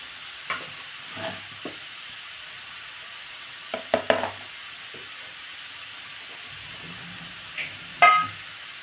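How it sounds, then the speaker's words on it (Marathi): Cashew namkeen pare deep-fry in oil over medium heat until golden. A soft, faint bubbling sizzle comes with scattered stirring clicks and scrapes, and a few louder knocks near the end. "तळून घेऊयात हे मस्त खमंग सोनेरी रंग येईपर्यंत तळायचे।"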